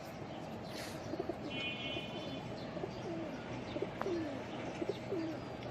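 Racing pigeons coo softly in a loft, low repeated murmuring calls scattered across a steady background hiss, with a brief faint chirp and a few light bumps.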